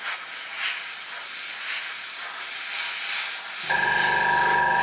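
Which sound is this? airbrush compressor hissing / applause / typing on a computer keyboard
airbrush compressor hissing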